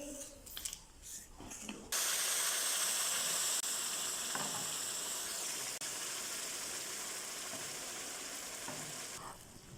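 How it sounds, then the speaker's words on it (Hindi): A hot sizzling platter hisses and crackles loudly with steam, a steady sizzle that starts abruptly after a few faint clinks and holds near and constant throughout, no talking. "प्लेटर मैंने सिजलिंग डिश ले ली है, इसको गर्म करेंगे।"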